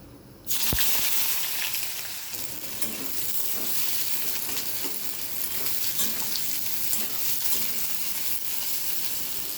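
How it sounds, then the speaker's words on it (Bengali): Chopped onions drop into hot oil with a sudden burst, then fry in a loud, steady, close sizzle with faint stirring scrapes, with no voices. "পেঁয়াজটাও ভালো করে ভেজে নেব।"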